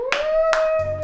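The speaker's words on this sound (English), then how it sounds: "Mama, take a while to clap." Two sharp hand claps about half a second apart, close and loud, over a steady whining tone in a room, ending in a low hum.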